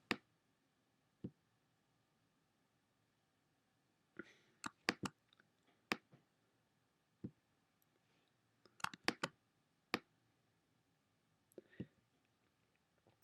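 Sharp, isolated computer mouse clicks while retouching a photo in Photoshop, some single and some in quick pairs, spaced irregularly against near silence.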